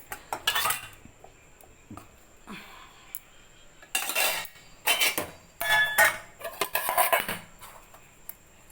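Dishes are washed and set down in a home kitchen: irregular bursts of clattering pots, plates and cutlery, with clinks and splashes between quieter pauses, close and fairly loud.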